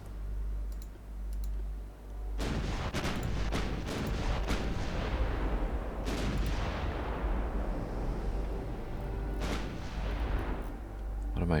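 Naval guns firing in Ultimate Admiral Dreadnoughts at a heavy cruiser: several sharp booming salvos crack out one after another, each trailing off in a long rumbling decay, over a low steady engine hum.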